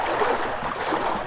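Dense, continuous rush of flowing water, loud and close, with an unbroken churning hiss and no voices.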